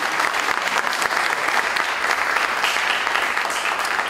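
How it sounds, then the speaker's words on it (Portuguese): Audience applause at a lecture during a young researchers' meeting: dense, continuous clapping from many hands, steady and fairly loud throughout with no pauses. "Essa hora aqui pode bater palmas."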